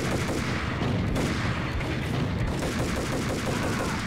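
Rapid gunfire in the shooter game Max Payne, a dense, continuous volley of loud shots crackling without pause for the whole stretch, with no talking over it.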